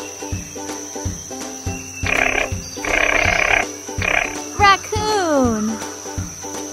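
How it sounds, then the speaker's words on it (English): Koala call from a cartoon forest-animal learning game: low, rough grunting bursts followed by a falling whistle-like sweep, all over steady background music. "Koala."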